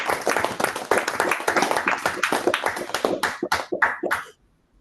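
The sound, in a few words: clapping for the club president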